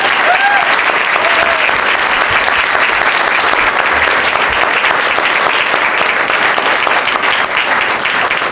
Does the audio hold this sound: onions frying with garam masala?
no